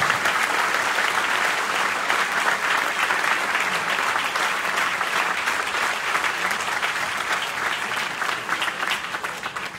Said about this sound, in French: si vous pouviez les applaudir chaleureusement pour les remercier